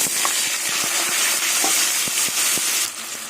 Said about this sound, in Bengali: এবার এই তেলে কুচনো আলুগুলো দিয়ে দেবো ডুমো ডুমো করে যে আলু আছে